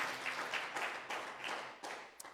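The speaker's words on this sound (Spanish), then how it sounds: "¿Cuánto le pueden dar un fuerte y sonoro aplauso al Señor?" Church congregation clapping for the Lord, a faint, sustained patter of many hands with a few sharper claps near the end.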